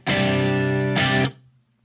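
An electric guitar plays through a dirty, warm gain stage on a Line 6 HD500 with reverb: two sustained distorted chords, the second struck just before one second, ringing loudly then cut off, with a faint low hum afterward.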